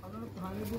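A pigeon coos softly in low, warbling tones, briefly and fairly faint, with a murmur of background voices, among pigeons kept on a netted enclosure.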